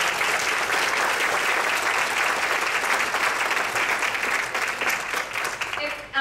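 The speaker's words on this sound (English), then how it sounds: "Can we give them a round of applause?" Applause for a panel at a monthly real estate association meeting, a sustained round of clapping from a seated audience that tapers off near the end.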